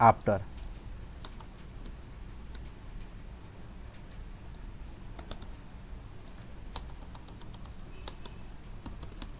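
Typing code on a computer keyboard for a Python data structures lab exercise, a quiet run of irregular soft key clicks with a few sharper taps, close but faint over a low room hum.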